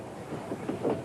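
A moving train in 1960 rolls along with a steady low rumble and faint soft wheel clatter throughout.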